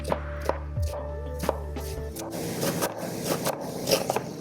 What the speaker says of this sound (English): We're going to cut up an onion. All right, I try to cut this onion as small as I can